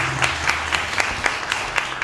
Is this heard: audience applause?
yes